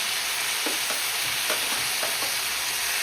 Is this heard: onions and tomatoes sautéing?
yes